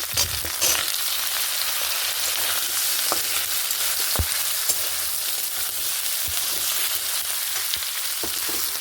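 Potatoes frying in a pan for a dried fish curry give a loud, steady, close sizzle with occasional sharp stirring clicks, and no one talking.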